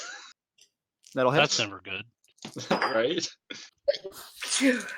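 A short sneeze bursts out amid casual talk, followed by more speech and a relieved exhale.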